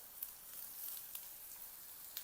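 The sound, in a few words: chillies and curry leaves sizzling while sautéed in a pan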